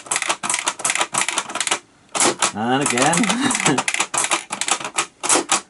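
Keys are pressed on a TOMY Tutor computer in rapid clacking bursts that sound much like a typewriter, loud and close, with a brief pause and a person speaking over part of the tapping.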